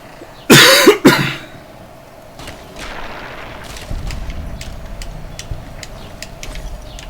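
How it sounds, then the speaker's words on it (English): Two sharp, loud coughs close to the microphone from a player during Fallout: New Vegas gameplay, then quieter background shuffling and faint clicks. "I've still been coughing up my lungs ever since getting sick."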